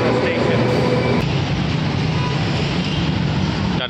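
A metro train at a Bangkok station rumbles steadily throughout, loud and close, with a dense low roar and a faint rise in pitch near the start.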